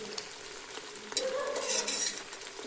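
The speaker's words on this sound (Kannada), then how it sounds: "ಚಿಕನ್ ಎಲ್ಲ ಚೆನ್ನಾಗಿ ಫ್ರೈ ಆಗಿದೆ. ಎಣ್ಣೆ ಬಿಟ್ಕೊಂಡಿದೆ" Country chicken sizzles and crackles in hot oil while a utensil stirs and scrapes through it, close and fairly quiet.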